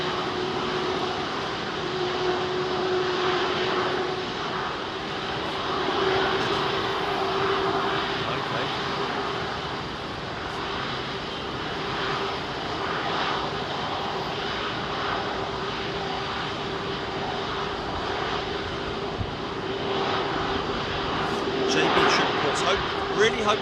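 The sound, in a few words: airliner departing Heathrow runway 27R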